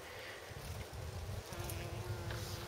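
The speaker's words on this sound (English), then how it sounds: "Lavender, look at all those bees." Bees buzz around flowering lavender on an allotment, a steady close hum with a low drone that holds for the whole moment and no talking.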